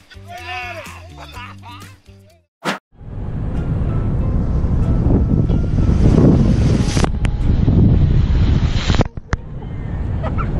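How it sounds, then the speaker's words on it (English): Ocean waves surge and crash around a large raft at sea, a loud, continuous roaring wash of water and wind noise that follows a few seconds of people talking and a brief gap. "Even how large the raft is, it can't save you from the waves."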